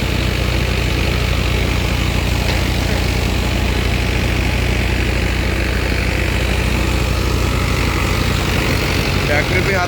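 A steady, loud tractor diesel engine idling with a constant low rumble and even throb, running alone without pauses.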